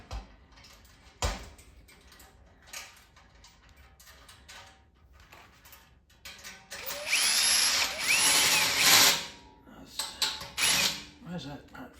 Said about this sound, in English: Oh, loosen the drill.